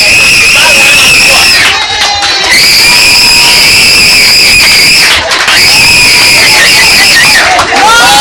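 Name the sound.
group of people screaming and shaking their clothes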